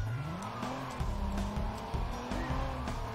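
A car in Watch Dogs drives with a steady engine drone while tires squeal and skid repeatedly in short rising whines, fairly close and loud.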